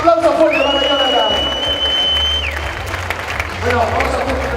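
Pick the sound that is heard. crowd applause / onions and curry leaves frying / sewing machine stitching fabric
crowd applause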